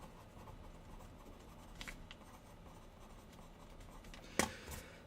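A pen scratches quietly as notes are written by hand, a soft continuous scratching with a couple of slightly sharper strokes near the end, no talking.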